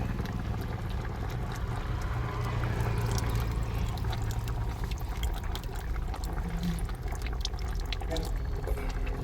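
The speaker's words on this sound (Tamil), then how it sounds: "புளியை ஊற்றிடுவோமா?" Tamarind water, dissolved until thin, poured by hand into a cooking pot for okra kara kuzhambu; a steady close pouring and trickling runs throughout, with faint background noise.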